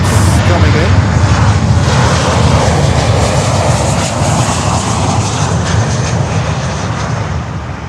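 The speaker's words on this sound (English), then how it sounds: "United Airlines 737-900s coming in." A United Airlines Boeing 737-900 arrives at Miami airport, its engines roaring loud and steady throughout before easing off slightly at the end, while someone talks faintly underneath.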